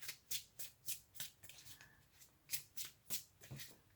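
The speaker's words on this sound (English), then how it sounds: "Just give it a little shuffle here." Tarot cards are shuffled in quick, rhythmic bursts, about a dozen crisp riffling swishes close by, with a brief pause midway and no talking.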